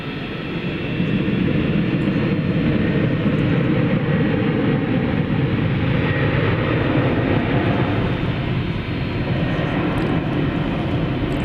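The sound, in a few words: UPS Airbus A300 at DFW Airport taking off at night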